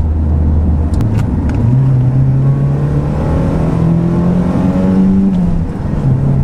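A Porsche 944 engine heard from inside the cabin drones loudly, climbing in pitch as it revs through the gears, with brief dips between shifts.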